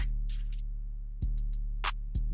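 Short, crisp percussion hits tap out a sparse pattern over a quiet, sustained low bass tone in a beat.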